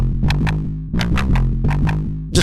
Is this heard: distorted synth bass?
yes